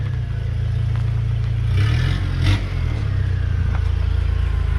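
A car fitted with an upgraded TD06 turbo accelerates, its engine droning low and steady with a brief rising surge and a whooshing burst midway, heard from inside the car.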